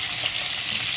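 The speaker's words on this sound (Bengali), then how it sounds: "ডিম ভেজে তুলে নিয়েছি।" Eggs fry in a pan, a close, dense crackling sizzle that runs steadily and evenly through the whole short moment with no voices.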